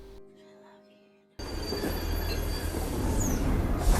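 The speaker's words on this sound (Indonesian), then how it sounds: "Di stasiun, Warren yang sedang menunggu kereta dikejutkan dengan kedatangan Rocco dan pasukannya yang baru turun dari kereta." A train at a station in a film scene: after a quiet stretch, a loud rumble of railway cars cuts in, with wheel noise and squealing rising steadily and close.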